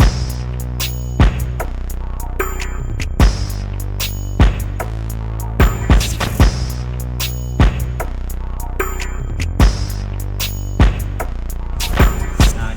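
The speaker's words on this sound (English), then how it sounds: "The first one is the 60 drill bass line" A generic UK drill style 808 bass line that follows the bass notes of the melody, with some notes inverted for a bouncier feel, thumping loud and steady under sharp hi-hats and snares in a looping beat.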